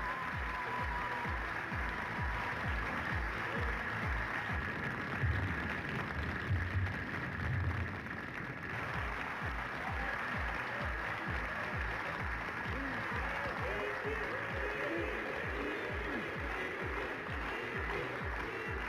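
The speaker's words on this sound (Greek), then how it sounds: "με το πιο δυνατό χειροκρότημα που θα έχω ακούσει ποτέ στη ζωή μου" A Greek TV studio audience applauds as a guest is welcomed, a steady, fairly faint wash of many hands clapping that runs on for nearly twenty seconds over a soft, regular low thump.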